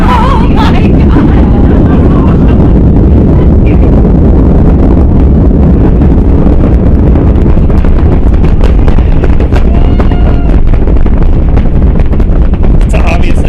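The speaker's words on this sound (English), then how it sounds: "And they've lit the engines. We're going." SpaceX Starship rocket engines roaring at launch, seen from several miles out: a loud, continuous broadband rumble fills the whole stretch, heavily buffeted by wind noise, with excited voices calling out over it.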